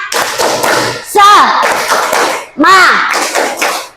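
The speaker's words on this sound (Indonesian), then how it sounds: "Tepuk semangat dulu ya. Tepuk semangat." A school class does a rhythmic spirit clap, loud close bursts of patterned clapping and thumping in two phrases, with children's voices chanting along between the claps.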